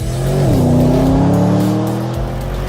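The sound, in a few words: Porsche Panamera Turbo S driving on a racetrack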